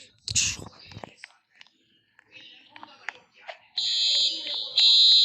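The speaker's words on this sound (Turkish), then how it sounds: "Şimdi duvarı kıracağım ve alarma basacağım." A fire alarm in the Roblox game Brookhaven starts up after scattered clicks and a whispering voice, then rings in a loud, steady high-pitched tone over the last seconds.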